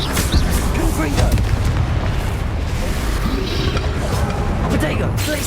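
A Confringo fire spell in Hogwarts Legacy bursts into a dense, booming blast. The roar and crackle fill the whole moment without letup.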